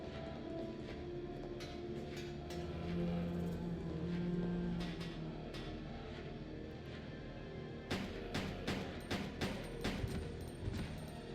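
Gunfire from Resident Evil: Code Veronica rings out as a cluster of sharp shots near the end, over a dense, rumbling game background.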